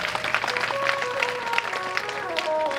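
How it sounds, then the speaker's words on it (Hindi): Audience applause at a live Shrimad Bhagavat Katha religious discourse, a steady broad wash of clapping with faint musical tones running underneath for the full stretch. "एक बार हमारे ब्राह्मण देवता की ताली बजाए जोरदार।"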